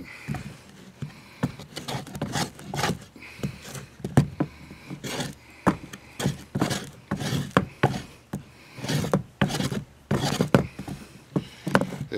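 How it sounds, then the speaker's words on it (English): Draw knife shaving wood for a homemade clock, a steady series of rhythmic scraping strokes, close and fairly loud, repeating about once per second without talk. "So we're just going to bring our draw knife across it and try to smooth it out"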